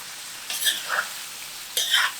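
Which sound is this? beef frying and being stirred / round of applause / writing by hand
beef frying and being stirred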